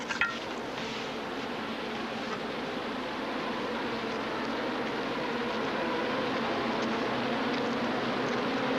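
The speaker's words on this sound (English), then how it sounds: "Grasshoppers." Swarm of grasshoppers descending on frontier farmland in 1873, a steady, dense buzzing hiss that holds at an even level and slowly swells slightly throughout.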